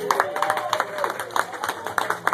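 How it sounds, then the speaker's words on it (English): Light, brief clapping from a small group at a seventh birthday party, a quick scattered patter of hands with faint voices mixed in. "Can I get a round of applause, please?"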